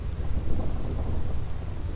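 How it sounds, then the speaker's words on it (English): A continuous rumbling, hissing roar of thunder and storm noise on the Thunder Plains in Final Fantasy X, loud and steady with no voices. "I hate lightning. I hate thunder."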